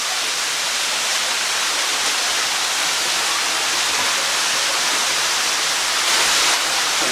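Steady, dense rush of falling water from a hidden waterfall inside a cave that opens to the sky above, a continuous close roar that holds level throughout with no voices.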